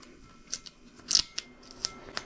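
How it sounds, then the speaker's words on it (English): Old inspection stickers are scraped off with a blade in a series of short, crisp scratching strokes, spaced irregularly over a quiet background. "Let's go ahead and start scraping them. These old inspection stickers off."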